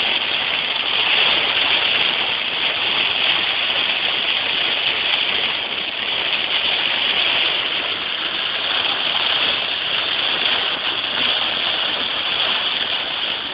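Steady, dense rain hisses continuously over a moving car at night with a low road and engine rumble beneath, near a river crossing; no one speaks.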